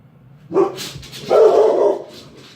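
A dog gives two loud barks close by, a short one and then a longer, drawn-out bark a moment later, with quiet between them.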